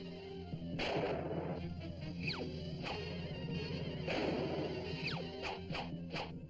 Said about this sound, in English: They're only cannonballs.